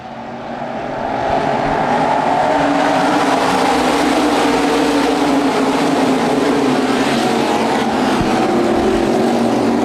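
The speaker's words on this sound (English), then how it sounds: "Axum, now Nestor, here it comes. Green flag." Modified race cars on an oval track roar up to speed at the green-flag start, a loud, dense engine drone building over the first second and staying steady and close throughout.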